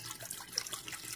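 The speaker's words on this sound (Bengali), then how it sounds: "এখন ডাল সিদ্ধ করার জন্য কুকারে দিয়ে দিচ্ছি জল।" Water splashes steadily into a pressure cooker to boil lentils in a home kitchen, a soft continuous close pour without speech.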